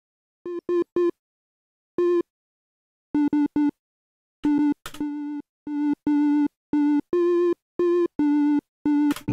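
A rhythmic chiptune melody built in the PICO-8 fantasy console, bright square-wave beeps in short bursts and repeated pulses on a steady pitch with a few higher notes, alone and clear.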